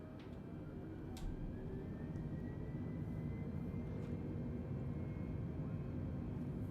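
A Delta airliner rolls for takeoff from runway 34 left at Denver in Microsoft Flight Simulator 2020, giving a steady, loud, low jet roar that holds evenly throughout with a faint whine above it.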